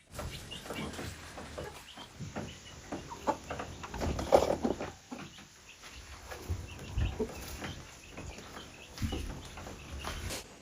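Chickens cluck and murmur softly on and off, with scattered rustling in the background.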